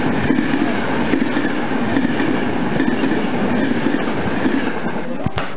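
Steady rumble and rattle of a train in motion, continuous and loud, with a faint squeal of wheels near the end.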